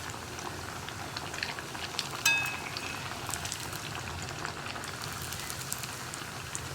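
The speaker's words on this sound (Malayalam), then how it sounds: "ഒരു മീഡിയം ഫ്ലെയിമിൽ വെച്ചിട്ട് വേണം കട്ട്ലറ്റ് ഫ്രൈ ചെയ്യാനായിട്ട്" Cheera (spinach) veg cutlets fry in hot oil over a medium flame, giving a steady, even sizzle and crackle that runs throughout with no one talking.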